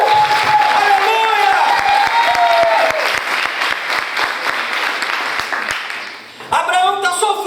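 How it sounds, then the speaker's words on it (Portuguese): A church congregation applauds loudly and continuously, with some cheering mixed in, fading slightly before a brief dip and a renewed burst with voices. "Vamos aplaudir El Shaddai."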